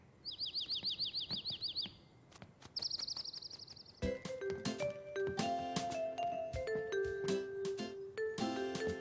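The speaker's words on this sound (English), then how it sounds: "Look, a bird." Rapid bird chirps trill in two short bursts, followed by a lighter plucked tune with bright twinkling tones.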